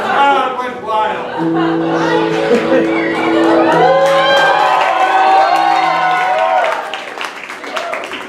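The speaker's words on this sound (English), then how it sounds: "The crowd went wild." A live audience at an all-stars comedy night erupts in loud cheering, shouting and whoops, with applause mixed in, sustained and close for several seconds before easing slightly toward the end.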